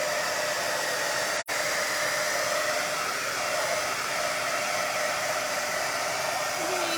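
Steady, loud whoosh of a hair dryer blowing continuously close by, with one brief cut-out near the start, no talking.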